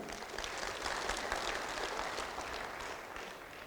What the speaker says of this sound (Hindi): तो आप सब लोगों के लिए एक जोरदार ताली